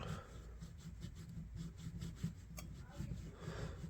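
Rust being scrubbed off a vintage knife blade, heard as a quiet, repeated back-and-forth rubbing with an even, rasping rhythm, faint and close throughout.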